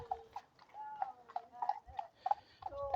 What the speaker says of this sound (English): There's nothing more typically countryside than the clip-clopping of